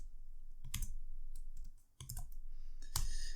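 Keys clatter on a computer keyboard in a quiet room while CSS code is typed, short bursts of clicks separated by brief pauses, faint and close.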